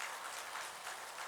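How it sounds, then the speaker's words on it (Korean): A church congregation applauds to welcome newcomers during a Sunday service, a soft, even patter of many hands heard at a distance, fairly faint and continuous. "우리 박수로 환영했습니다"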